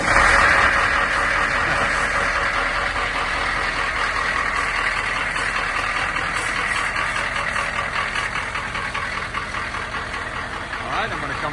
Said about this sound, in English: we're going to do a cold start on the diesel-powered Hummer